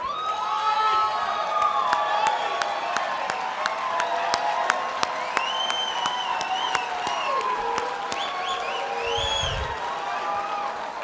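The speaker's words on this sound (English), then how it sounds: "Did you bring your own cheering section?" An audience at a children's charity gala in Denver applauds and cheers steadily, with dense clapping, scattered whoops and a few voices calling out over the crowd.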